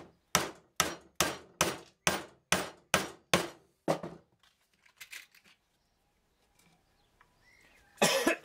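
Nine sharp hammer blows drive 40 mm nails into pallet-wood planks for a garden planter, struck at a steady rhythm, followed by quieter handling noises and a final loud scrape.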